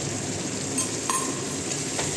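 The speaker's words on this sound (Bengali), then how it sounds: "এখানে মাংসটা কষিয়ে নিচ্ছে" Chicken pieces for chicken badami sauté in a hot pan, a steady close sizzle with occasional scraping clinks from stirring, and no talk.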